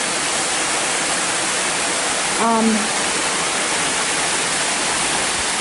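Aycriggs Falls pours steadily down terraced rock, a loud, close, unbroken broadband rush of water, with a brief faint tonal chirp partway through.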